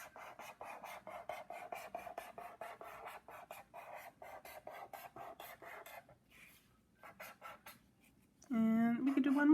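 Sharpie marker dragged across paper in quick zigzag strokes, a rapid series of short scratchy rubs, with a louder burst of sound at the end.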